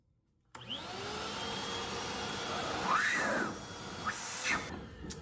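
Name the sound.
Bauer 6 gallon wet/dry vacuum running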